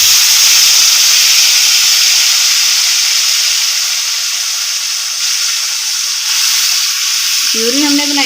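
A tomato and onion puree hits hot spices in a pan, setting off a loud, sustained hissing sizzle that slowly settles, with a brief voice near the end.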